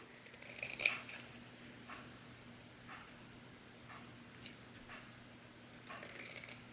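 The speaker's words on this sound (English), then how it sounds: "if you cut them like a like a pie, just by taking these little slits in" Scissors snip slits into paper to shape peony flower petals, giving close, crisp cutting sounds in short bursts at the start and end, with faint scattered snips between over a low hum.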